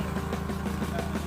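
Kawasaki Z1000 motorcycle engine idling nearby, a steady low rumble with a faint rhythmic pulse throughout, heard during a group ride in Pangasinan.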